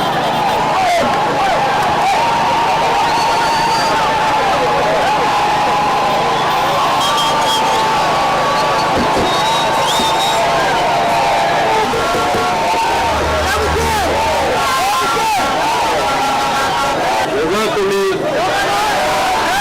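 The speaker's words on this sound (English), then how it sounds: "he was received by the cheering crowds" A crowd in Komi district cheers and chatters as a senior presidential advisor arrives. Dense, loud babble and scattered whoops continue for the whole stretch, with voices speaking over the noise.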